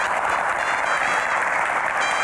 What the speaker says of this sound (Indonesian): Tepuk tangannya boleh lebih meriah lagi.